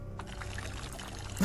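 Water pours steadily for a moment, a continuous close splashing trickle with no voices.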